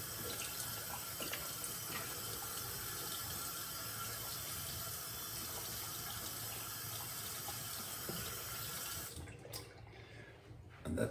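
A bathroom tap runs steadily at close range while a double edge safety razor is rinsed under it, an even hiss of water that cuts off abruptly near the end.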